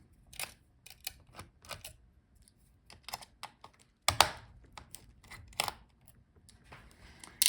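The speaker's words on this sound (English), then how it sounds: "So unscrew these screws." Screws being undone inside an Asus Vivobook 17 F1704 laptop during a teardown: quiet, sharp clicks and short ticking bursts come in irregular clusters, close up and alone.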